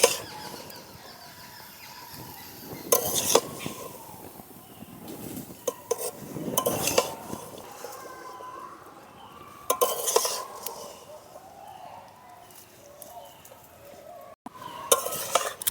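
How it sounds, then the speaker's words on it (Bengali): Chopped bottle gourd being stirred with spices in a pan for a prawn dish, with intermittent scraping and clattering bursts of a utensil against the pan over a soft background, no talking. "লাউটা আমি মশলার সাথে ভালো করে মিশিয়ে নেব।"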